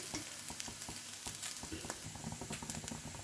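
Elephant foot yam poriyal frying in a pan, a dense continuous sizzle with scattered crackles and light stirring scrapes, close and steady throughout.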